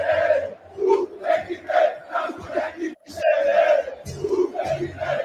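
Botafogo football supporters chant their club song in unison, played back as a recording: a loud, rhythmic crowd of many voices singing in repeated phrases with brief pauses between lines.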